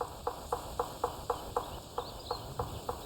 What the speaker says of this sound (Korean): 목탁 소리처럼 들리는 이 소리는 까막딱따구리가 둥지 쪼는 소리다.